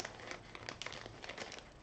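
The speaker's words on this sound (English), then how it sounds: "nice plastic bag that's reusable" A reusable plastic bag from a diamond art kit is crinkled continuously at close range, giving a dense, steady rustling with small sharp crackles throughout.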